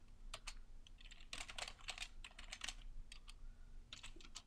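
Close, quiet typing on a computer keyboard while entering a MySQL command: bursts of rapid, light key clicks in short irregular runs with brief pauses, over a faint steady hum.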